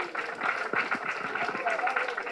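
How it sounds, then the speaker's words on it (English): Crowd applause at a June 12 democracy event in Nigeria honoring MKO Abiola, a dense steady patter of clapping lasting a couple of seconds with voices mixed in. "A round of applause for Mr. MKO Abiola."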